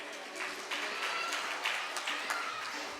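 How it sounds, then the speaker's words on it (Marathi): Audience applause for an elderly honored guest at a Mumbai Police retirement ceremony, a steady, moderately distant patter of many hands clapping throughout. "आदरणीय श्रीमती सुमन काकूंसाठी जोरदार टाळ्या वाजूया"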